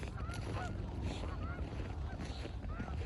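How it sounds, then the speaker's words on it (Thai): Wild geese honk several times at a distance over steady wind noise and rumbling water in Colorado, the calls scattered across the outdoor background. "อันนี้คือห่านธรรมชาตินะทุกคนห่าน"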